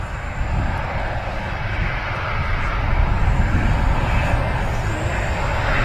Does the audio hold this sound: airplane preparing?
yes